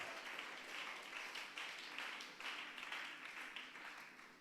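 Congregation applauding in church, a steady wash of many hands clapping throughout with dense, continuous texture at moderate distance.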